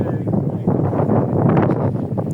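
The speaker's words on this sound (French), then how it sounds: "Ah, c'est pas possible le vent." Strong outdoor wind buffets the microphone in a loud, continuous low rumble with gusty surges, drowning out other sound.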